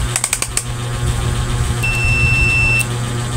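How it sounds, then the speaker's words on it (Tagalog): A few sharp clicks are followed by a steady electronic buzzer tone, wired to a homemade extension outlet, that holds for about a second before cutting off, over a low background hum. "Buzzer."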